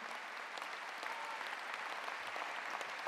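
A large audience at a political speech in the Palais des congrès de Paris applauds, a steady, dense wash of clapping heard from a distance at moderate level throughout.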